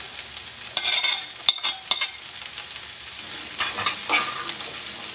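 Chopped long yard beans stir-frying with onion in a pan for a Kerala mezhukkupuratti: bursts of crackling sizzle and spatula clatter near the start, then a softer steady fry, close and without speech.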